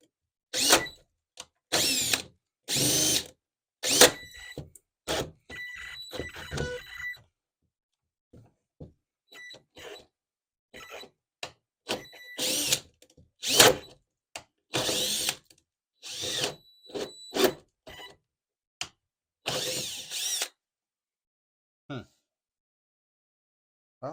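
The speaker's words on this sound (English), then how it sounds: "It's taking such big bites out of the wood that the drills aren't having enough power." A power drill bores into wood while fitting a central vacuum system, the bit biting aggressively; loud whirring bursts start and stop repeatedly, with short pauses between them.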